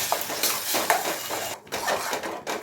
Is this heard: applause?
no